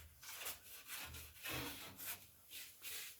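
Wet wood-stove ash rubbed on a stove's glass door, giving soft gritty scrubbing strokes in a slow irregular rhythm, faint and close with no talking.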